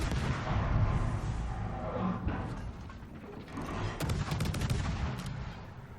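Naval gunfire in World of Warships, ship guns firing shells at long range: a dense, rumbling roar of distant booming salvos, with a few sharper cracks near the end and no talk.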